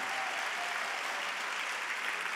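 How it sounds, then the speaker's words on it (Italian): An audience at a live music event applauds the technical crew. The clapping is continuous and even, with no voices over it. "vi va di fare un applauso ai tecnici"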